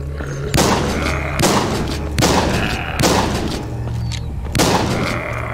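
Shotgun blasts in the zombie shooter Walking Zombie 2, four heavy booming shots spaced roughly a second apart, loud and close with a short decay after each.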